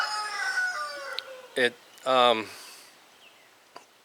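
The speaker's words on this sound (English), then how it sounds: "he just crows and crows and crows for no reason whatsoever" A rooster crows twice in close succession, loud and near, its harmonic calls standing out over faint background noise.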